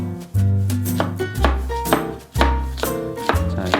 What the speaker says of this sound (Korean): 먼저 양파를 잘게 다져주신다고 생각하시면 돼요